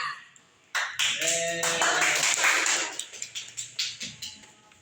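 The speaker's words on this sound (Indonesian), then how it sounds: "Tepuk tangan buat Ridwan sama Cynthia sama Meisya" Students in a classroom clap for three classmates called to the front during a microteaching session, a brief burst of applause that breaks into a few scattered separate claps and fades out, with faint voices underneath.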